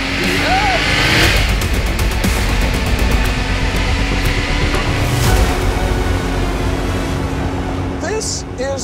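Air-cooled Porsche 911 Carrera 2.7 RS engine, running loud and steady nearby, with a constant mechanical roar through the whole stretch and a brief fade near the end.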